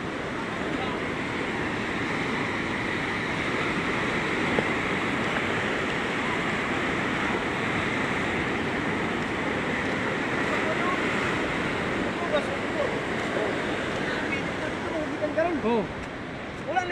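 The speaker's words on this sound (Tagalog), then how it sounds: "dagko pa kay tao ng balod" Large ocean waves roll and crash continuously along the shore at Baluarte, a loud steady surf roar with wind buffeting the microphone throughout.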